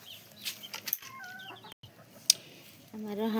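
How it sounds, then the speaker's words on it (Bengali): Four backyard chickens eating ginger cluck softly in short, scattered calls, fairly quiet and close, with a few brief clatters in between. "আমার 4টা মুরগি আছে, কিবা করে আদার খাইতেছে আপনারা দেখেন"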